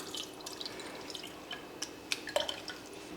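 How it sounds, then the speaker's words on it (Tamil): Ground herb juice made with salt and neem-type bark being strained, with soft, faint liquid drips and trickles falling irregularly close by in a quiet room. "இப்போ வடிகட்டிடலாம்."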